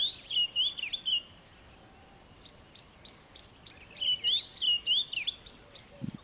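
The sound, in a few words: grey-headed bushshrike and scrub robin singing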